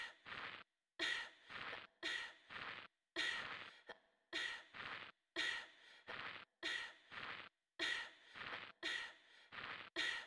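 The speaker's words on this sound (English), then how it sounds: "What a breathing noise." Loud, heavy breathing from a character in the 1996 game Clock Tower, in quick rhythmic bursts of panting breaths with brief gaps, close and alone without talk.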